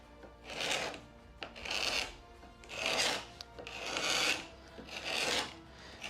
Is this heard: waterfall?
no